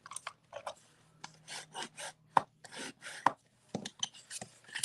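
Bone folder burnishing a fold in cardstock, a series of short rubbing and rasping strokes in bursts with brief pauses, close and fairly quiet, no talking.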